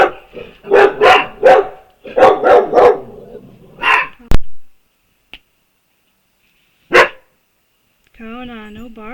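A dog barks in a series of sharp, close barks in two quick clusters, then a single bark and a few isolated snaps, ending with a whine, in an indoor room.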